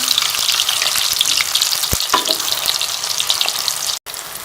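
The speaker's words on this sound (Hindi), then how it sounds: "चारों साइड से आपने इसको फ्राई कर लेना है।" Matar koftas fry in hot oil, a loud, dense, continuous bubbling sizzle with a brief low knock near the middle and a sudden momentary drop just before the end.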